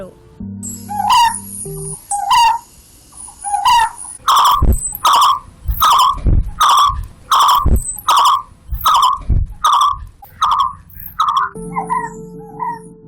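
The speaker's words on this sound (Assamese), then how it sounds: "এই মাতটো হ'ল হেটুলুকা চৰাইৰ।" Call of the hetuluka bird of Southeast Asia: about a dozen loud, mewing, nasal notes repeated in a quickening run, each with a strong harmonic ring, with faint low background sound before and after.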